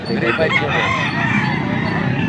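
A rooster crows loudly and continuously amid clucking chickens, a busy, dense poultry din filling the whole moment.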